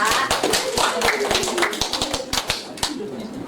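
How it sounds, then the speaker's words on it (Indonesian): A primary-school class of fifth graders claps together for a classmate in a practice-teaching lesson: a quick run of close, crisp, evenly paced claps over a low room murmur, continuing steadily to the end. "Tepuk tangannya untuk Zafira."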